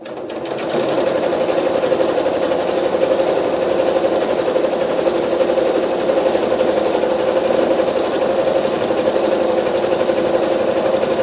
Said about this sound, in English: the walking foot really helps move everything right through the machine nicely